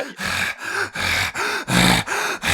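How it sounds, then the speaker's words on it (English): Heavy breathing picked up close to a microphone, with rhythmic loud inhales and exhales repeating about every half second, harsh and breathy with no speech. "My breathing tends to be captured more heavily than anything else."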